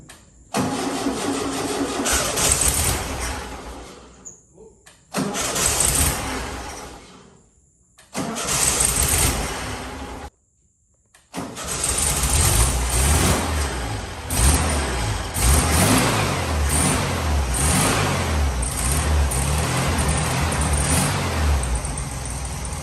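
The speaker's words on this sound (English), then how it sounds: "So let's turn it over. She should crank, she should fire, and it should run." A 47-year-old barn-find Volkswagen Karmann Ghia cranks in several loud bursts separated by pauses, then fires and settles into a steady, close running engine note that continues to the end.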